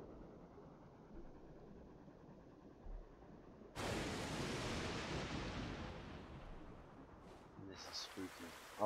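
A sudden steady wash of rain-like hiss in the video game Stormworks starts partway through and holds, then a few clicks and tones cut in near the end.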